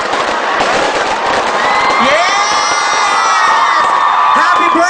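Fireworks exploding during a university birthday celebration, with a loud crowd cheering and whooping throughout, crackling bursts and whistles mixed with shouting children.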